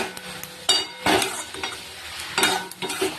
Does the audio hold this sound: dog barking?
no